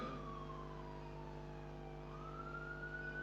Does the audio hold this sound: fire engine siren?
yes